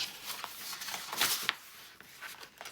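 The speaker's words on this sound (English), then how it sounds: "let's see if my Tim Holtz scissors will cut through that" Tim Holtz scissors snipping through fabric on a crafting page, a few quiet, scattered crisp cuts and rustles, close and soft with no talking.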